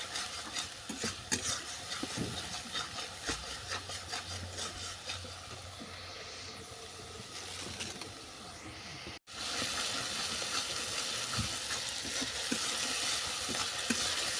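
Ground spices and red chilli powder fry in oil while being stirred, a dense, continuous sizzle with scraping strokes throughout, close up, with a brief dropout midway before the frying resumes.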